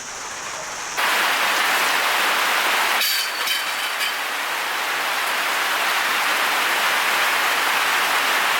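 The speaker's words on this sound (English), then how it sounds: "We just got a torrential downpour of rain, which was unexpected in the outback" A torrential downpour of rain hammers down in the South Australian outback near Mount Gambier, a dense, loud, steady roar that starts abruptly and keeps going with no letup and no talking.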